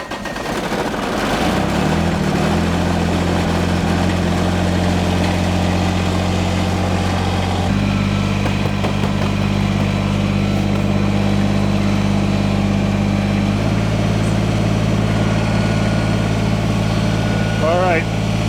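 A Kubota BX compact tractor engine warming up and idling, loud and close with a steady low drone whose pitch shifts a few times as the revs settle.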